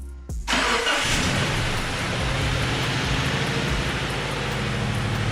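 A Subaru Forester converted to Euro 2 fires up with a short starter whirr, then settles into a steady, loud idle that hums continuously as the engine warms, with no talk over it.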